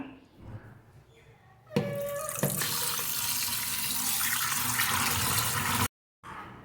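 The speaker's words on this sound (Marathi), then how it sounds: "सर्वप्रथम आपण ही स्वच्छ धुवून घेऊया" Mushi shark fish washed under a running kitchen tap: a strong steady gush of water splashing into a sink for about four seconds, cutting off abruptly, with faint handling noises before it.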